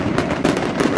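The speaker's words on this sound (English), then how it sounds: "Hold for Fireworks" Fireworks crackle and pop in a dense, continuous barrage, loud and close, with rapid overlapping bursts throughout and no voices.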